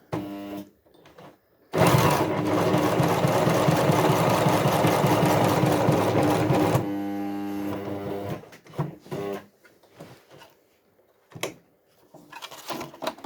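A Jomita portable walking foot zig zag industrial sewing machine runs a straight stitch in one loud, steady whirring burst of about five seconds, followed by short clicks and handling noises.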